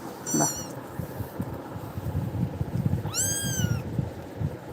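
Pet cat meowing close by, two distinct drawn-out meows a few seconds apart over a low background of rustling and handling noise.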